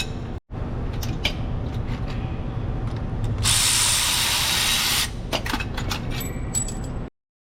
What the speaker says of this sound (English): I'm gonna get my battery ratchet on it.